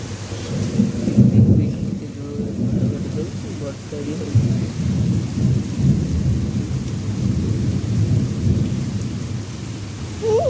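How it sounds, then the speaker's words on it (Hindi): Heavy rain pours steadily with rolling rumbles of thunder, loud and continuous throughout, with no clear speech. "जोर से वर्षा हो ना"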